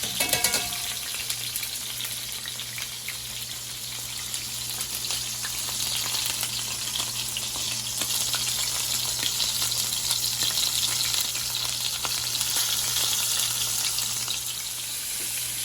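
Swordfish sears in a hot pan, throwing out a loud, steady, unbroken sizzle that holds at an even level throughout without any pause.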